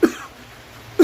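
A person coughs twice, about a second apart, each a short, sharp, close burst with quiet in between.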